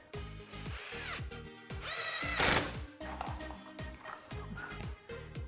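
A power drill drives wood screws to attach wheels to a wooden rolling lemonade stand, giving repeated short whirring bursts in a steady rhythm mixed with other busy background sound.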